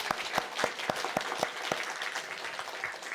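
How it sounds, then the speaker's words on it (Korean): A Sunday morning church congregation clapping together, sharp individual claps standing out in an uneven rhythm over a softer bed of applause, moderately distant and fairly quiet. "통틀어서 다 같이 박수하도록 하겠습니다."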